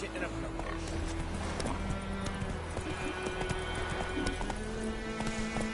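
Roach the horse gallops in The Witcher 3, rapid rhythmic hoofbeats clip-clopping steadily over game music, with a voice speaking in the background.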